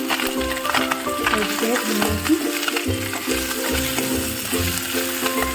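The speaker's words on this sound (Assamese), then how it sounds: "এনেদৰে মই গোটেইখিনি মাছ কমকৈ ভাজি ল'ম।" Pieces of fish fry lightly in oil in a pan for a fish khar dish, giving a steady close sizzle broken by the scrape and knock of stirring. A voice speaks over the cooking now and then.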